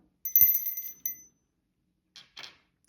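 A ritual bell rung to open a ritual: a bright metallic strike with a ringing overtone that decays over about a second, a second lighter tap, then two soft rustling sounds in near silence.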